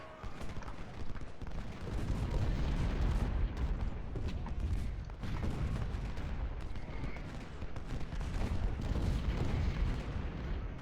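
Battle in Ultimate General: Civil War: a dense, continuous crackle of musket volleys and booming artillery, all at even loudness, with scattered sharper reports and no talking.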